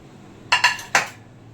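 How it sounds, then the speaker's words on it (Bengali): Three quick metallic clinks of a utensil against a cooking pan as chopped onion and tomato go in, close and sharp over a quiet kitchen background. "তো পেঁয়াজ টমেটো দিয়ে দিচ্ছি।"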